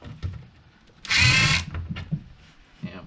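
A power drill driving screws into particle board gives one short, loud whirring burst of about half a second, set among quiet handling noises in a workshop.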